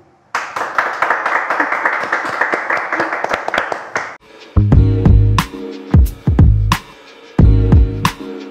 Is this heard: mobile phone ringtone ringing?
no